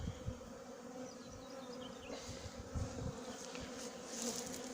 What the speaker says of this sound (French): quand on pense qu'il y a plus d'abeilles dans la ruche, bah on secoue une dernière fois le carton et elles rentrent toutes